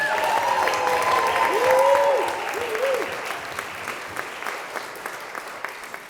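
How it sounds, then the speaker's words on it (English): Wedding guests applauding at a reception, a dense burst of clapping that fades gradually, with brief cheering or whooping voices rising over it early on. "So I think that deserves a round of applause on its own."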